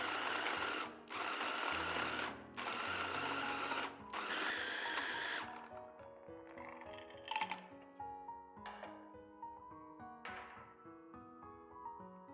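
A food processor pulses pork into coarse, grainy mince: several loud, whirring bursts of a second or so each, followed by shorter, fainter pulses with brief pauses between them.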